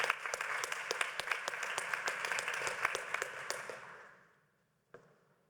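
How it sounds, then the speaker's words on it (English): An audience at a drug treatment and harm reduction conference session applauds with sharp, distinct claps that taper and stop near the end, followed by a lone faint tap after a moment of silence. "One more hand of applause since it was Zoom."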